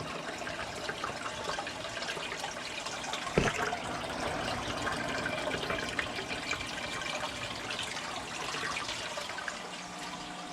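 Water pouring and splashing from a Marineland Penguin 350 aquarium filter, a continuous, close, steady rushing flow with one brief knock partway through.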